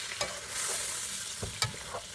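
Chicken skin frying and sizzling in a pan after a seasoning mix of soy sauce, oyster sauce and lemon is added, a steady close hiss broken by a few clattering stirs.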